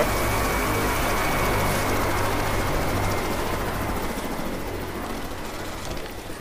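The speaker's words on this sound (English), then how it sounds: "I do hear a helicopter, though." A helicopter approaches in the zombie shooter Left 4 Dead 2 during a custom-map finale: a steady low rotor and engine drone fills the whole stretch, loud at first and easing off slightly toward the end, with no voices.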